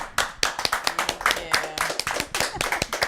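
Audience clapping at an event honoring DianE Christensen, a handful of people producing sharp, irregular claps close by, without a full crowd wash.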